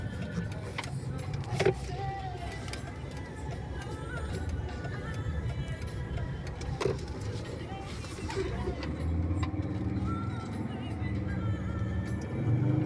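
A Mercedes W211 E270 CDI diesel sedan with a 5G-Tronic automatic gearbox drones steadily from inside the cabin as it accelerates, the low engine hum rising slightly toward the end while someone talks over it.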